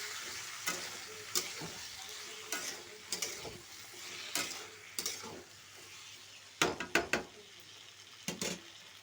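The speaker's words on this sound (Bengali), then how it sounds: "নাড়াচাড়া করবো" Spices with cumin powder frying for a thin okra curry, a spoon scraping and clicking against the pan in irregular strokes over a faint, steady sizzle, close and fairly quiet.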